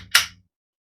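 A single crisp, sharp click from the trigger breaking on a dry-fired Smith & Wesson Bodyguard 2.0 striker-fired pistol, close and isolated, decaying quickly into silence.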